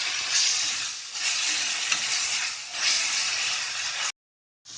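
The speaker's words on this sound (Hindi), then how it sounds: "इसके बाद डालेंगे प्याज। प्याज को अच्छे से भूनेंगे गुलाबी कलर आने तक।" Onion frying in a pan while being stirred, a loud, even, close sizzle with swelling surges of hiss, cutting abruptly to silence near the end.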